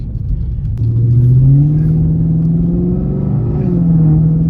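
A Dodge Scat Pack swings through a U-turn, its engine a loud, steady low rumble that rises slightly in pitch as it accelerates, heard from inside the car with no talking.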